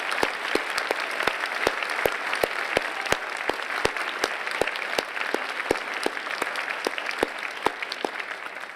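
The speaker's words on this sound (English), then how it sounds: "Let's give each of our remarkable deans a round of applause." A convocation audience gives a sustained round of applause for university deans at an undergraduate ceremony. The dense clapping stays steady and even throughout, with sharp individual claps standing out over the crowd.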